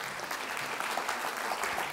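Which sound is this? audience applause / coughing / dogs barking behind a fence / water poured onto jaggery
audience applause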